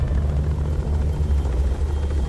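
A helicopter airlifts injured crew off the aircraft carrier Nimitz, its rotors thumping in a loud, steady low-pitched drone without pause, with no voices over it.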